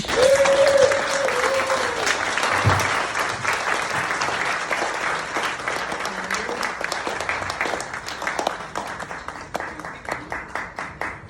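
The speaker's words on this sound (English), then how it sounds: "you can stop clapping now" An audience at a retirement celebration applauds steadily, a dense, loud wash of many hands clapping that holds for several seconds before thinning into scattered, fading claps, with a brief murmur of voices near the start.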